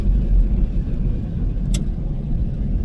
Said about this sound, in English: This thing is running nice and smooth. It fired right up. Idle came down where it's supposed to,